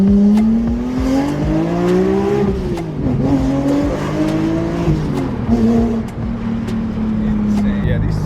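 A manual BMW M5 E60 with a V10 engine pulls away, its engine note climbing through the gears, loud and close inside the car, with a brief tire chirp.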